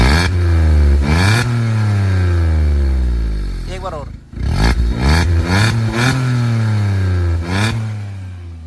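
A Maruti WagonR fitted with an aftermarket exhaust revs hard in several loud, close bursts that rise and fall over a rumbling idle, while someone talks over the engine.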